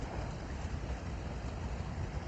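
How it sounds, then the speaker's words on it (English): Running water flows steadily outdoors on a chilly day, a continuous broad rushing wash with some wind noise and no talk. "It's running water."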